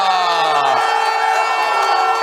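Away supporters roar in the stands after a penalty goal at a Slovenian third-division football match: a loud, dense, continuous crowd cheer with a voice carrying over it.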